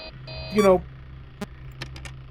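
Audio lure beeping from the game Five Nights at Freddy's 3: steady electronic tones open, then a rising, warbling sweep and a few sharp clicks, moderately loud and without talk.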